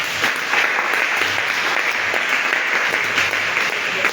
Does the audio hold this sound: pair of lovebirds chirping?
no